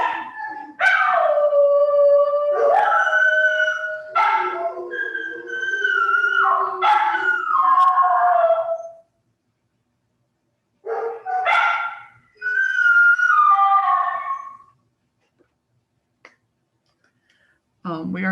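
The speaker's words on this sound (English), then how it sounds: "I'm assuming that you can just ignore the dogs barking." Several dogs howl in long, wavering cries, with a pause midway before the howling starts up again.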